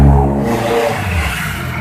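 Loud engine noise rumbles close by, a steady low roar with a slight rise and fall, dominating the short moment.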